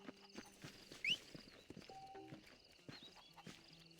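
Horse hooves clip-clopping in the Western video game Red Dead Redemption, a soft, steady walking rhythm heard faintly under a busy game soundscape with a brief high whinny-like cry near the middle.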